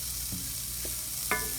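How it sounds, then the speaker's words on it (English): Garlic and onion frying with paprika in a pan, a soft continuous sizzle broken by a few light scrapes and clinks of a utensil against the pan. "I'm going to cook this and just kind of let the garlic and onion render down a little bit."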